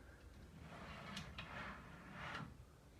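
A homemade caravan BBQ slide slides shut into a toolbox with soft, faint scraping and rumbling, a few brief bumps as it moves home, quiet and close.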